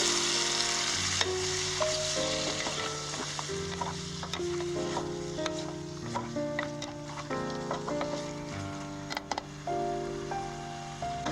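Steady loud sizzling of prawns frying in a hot pan, with occasional clinks and scraping of a spoon stirring.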